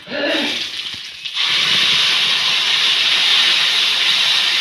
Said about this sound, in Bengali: মিক্সচার মেশিনে কাঁচা লঙ্কা মিক্সড করে রাখা হয়েছিল, এখন এটা কড়াইয়ে ঢালা হবে।